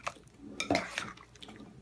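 A utensil stirs and clinks through fruit salad in a bowl, giving a few quiet clatters and soft wet scrapes. The sharpest knocks come in brief bursts near the middle and at the end.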